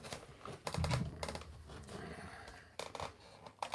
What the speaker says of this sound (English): it's so bad on my scissors to use to cut metal